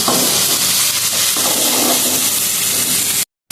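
Onion and chilli paste hits hot mustard oil with a loud, continuous hissing sizzle. The sound fills the clip until a brief cut of silence near the end.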